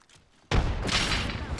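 A grenade explodes in a shooter game, a sudden loud burst after a quiet moment, followed by a lingering noisy rumble of debris.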